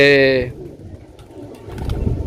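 A Teddy pigeon coos briefly and loudly up close at the start, then fades into muffled background noise and faint movement.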